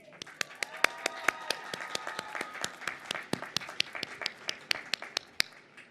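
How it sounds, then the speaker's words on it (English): Applause for graduating students at the 2021 College of Sciences and Humanities commencement: fairly faint, scattered clapping with distinct individual claps in a quick, uneven rhythm, from a small gathering, with a little speech in the background. "What a wonderful applause to our well-deserving students."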